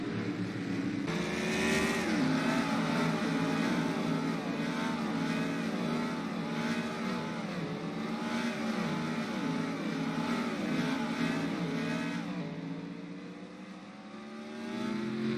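NASCAR Sprint Cup race cars roar continuously in a video game, engines whining through rising gear shifts as the pack races past, loud and steady with no talk.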